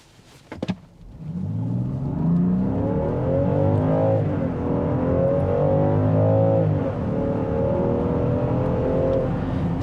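A 2024 Land Rover Defender Outbound floored from a standstill without brake torquing, slightly uphill; the engine note climbs steadily through several upshifts with a close, loud rising drone after a few clicks at the start.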